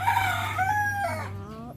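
A rooster crows once, loud and close, its long wavering call filling the moment while racing pigeons are fed nearby, with no voices over it.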